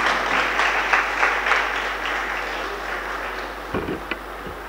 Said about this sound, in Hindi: आप लोग ताली बजाएं इसके लिए